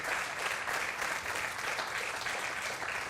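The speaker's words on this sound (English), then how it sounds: "let's give him a round of applause" Crowd applause for the pole-position winner at a MotoGP eSport semi-final event for Misano: a continuous, even wash of clapping, fairly soft and distant, with no voices over it.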